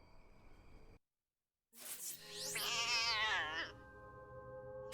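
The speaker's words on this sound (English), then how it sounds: "You can hear him screeching all over the base." A cat screeching inside the Experience 112 video game lets out one long, loud, wavering yowl after a short silence, over a steady electronic hum.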